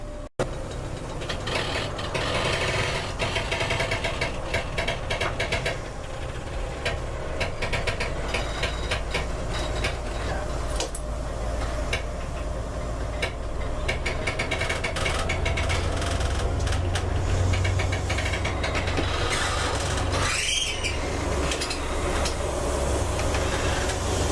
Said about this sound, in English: It's a noisy old train, isn't it?